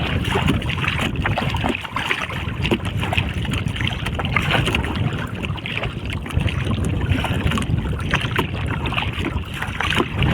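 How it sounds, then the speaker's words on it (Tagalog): Strong wind roars steadily and loudly against the microphone while someone paddles a small boat, with constant gusty rushing and faint splashing throughout. "masyado malakas ang hangin. Tingnan ko kung naririnig nyo yung hangin, malakas na rin"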